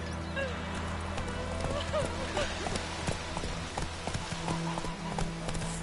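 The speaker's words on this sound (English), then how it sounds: "Giddy up." Horse hooves clip-clopping at a steady trot or gallop in The Witcher 3 video game, close and continuous under game music and a brief spoken line.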